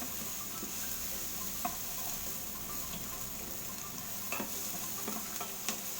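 Garlic and onion sauté in oil in a pan while making chicken in oyster sauce with kangkong: a steady, close sizzle runs throughout, broken by a few faint clicks of stirring.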